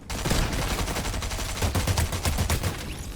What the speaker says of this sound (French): Regardez comment je tire mal aussi.